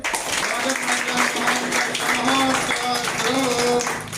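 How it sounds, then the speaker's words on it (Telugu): An audience clapping at a ceremony: a dense, steady burst of applause sustained throughout, with voices mixed in beneath it. "అందరూ ఒకసారి చప్పట్లు కొట్టండి"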